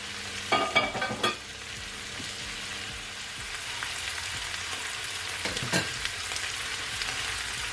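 Cabbage fries with bacon and smoked sausage in a pan, a steady loud sizzle broken by a few scraping stirs near the start and again later.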